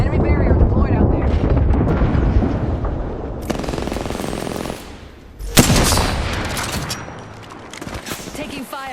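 Rapid automatic gunfire rattles in bursts during an Apex Legends Season 8 match, with loud close volleys, a sharp blast partway through and game voice lines mixed in.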